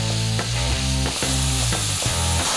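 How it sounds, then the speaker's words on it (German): Contents of a packet mix for spaghetti bolognese being stirred into a hot pan, a loud continuous sizzle broken by repeated scraping stirring strokes about every half second. "Beutelinhalt einrühren"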